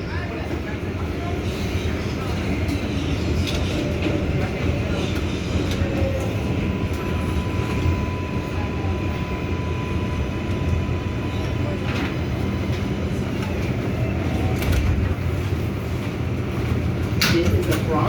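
An MTA New York City subway R142A car on the 6 line runs between stations, a loud, steady rumble and rattle of wheels on track throughout, with brief screeches and an onboard announcement voice at times.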